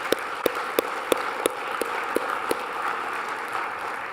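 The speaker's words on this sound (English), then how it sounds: "please give a big round of applause to Rupert and Alistair" Applause from a conference audience for Rupert and Alistair, a dense wash of clapping with a few sharp, louder claps standing out at a steady pace, fairly near and sustained throughout.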